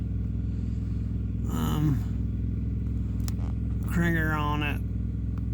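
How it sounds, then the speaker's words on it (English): A generator runs steadily with a low, constant hum throughout, while a person talks briefly over it on two occasions. "the generator even works. So that's on."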